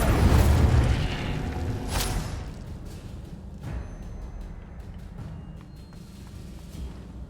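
An Incendio fire spell in Hogwarts Legacy erupts in a loud whooshing burst at the start, then fades into a crackling, fluttering tail with a few smaller pops over a low game ambience.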